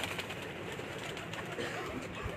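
Sialkoti pigeons at a rooftop loft at night give soft, low cooing calls over a steady hiss of background noise.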